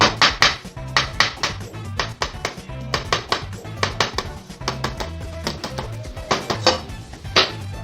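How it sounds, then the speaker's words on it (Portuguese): Boiled free-range egg tapped against a hard surface to crack its shell, a run of sharp close clicks in quick irregular clusters, loud and dry, with no voice over them. "Vou dar uma leve batida aqui, ó, para ajudar a quebrar a casca."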